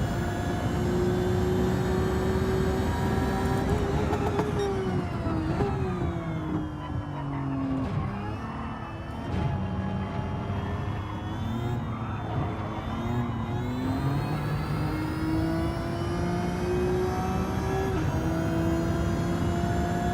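Race car engine in Gran Turismo 7 revving hard and upshifting around 8,000 rpm, a loud sustained whine that climbs, drops sharply at each gear change and climbs again, steady and close throughout with no talk over it.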